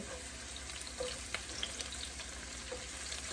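Vegetable bhaji with onions and panch phoron spices fries in a pan, a soft, continuous sizzling hiss with faint scattered pops, quiet and unbroken by speech.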